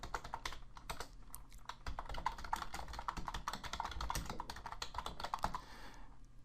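Fingers type steadily on a computer keyboard, a rapid run of close, crisp key clicks for several seconds that taper off at the end, with no talking.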